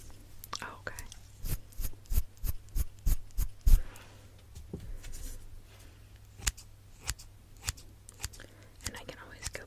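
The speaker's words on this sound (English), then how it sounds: "These are just standard trimming shears, so nothing major." Trimming shears cutting hair during a close-up haircut, a run of crisp, evenly spaced snips near the ear followed by slower scattered cuts, with soft whispered talk throughout.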